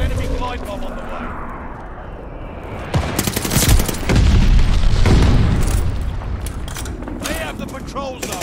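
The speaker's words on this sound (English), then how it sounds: "Got an enemy glide bomb on the way." An enemy glide bomb in Call of Duty Vanguard multiplayer lands with a heavy, rumbling blast. The loud roar swells midway and lingers amid scattered gunfire and battle noise.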